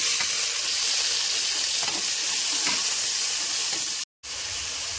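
Mituli (mussels) sizzle steadily in hot oil with garlic and two chillies, a constant close hiss with faint scraping, cut by a brief dropout near the end.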